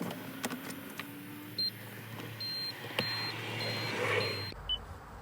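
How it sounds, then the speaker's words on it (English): A 2011 Toyota Prius IV powering on, with several short electronic chimes and beeps over a faint hum and soft clicks inside the cabin, no engine roar. "I'll start up the car and show you."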